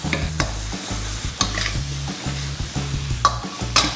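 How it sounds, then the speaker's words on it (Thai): Korat-style rice noodles and vegetables stir-fried in a hot pan, loud close sizzling with a quick regular rhythm of scraping tosses and sharp spatula clacks against the metal. "ผัดให้เข้ากันดีทั้งหมดนะครับ"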